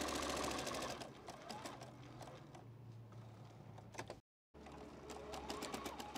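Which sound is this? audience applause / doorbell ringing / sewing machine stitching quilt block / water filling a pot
sewing machine stitching quilt block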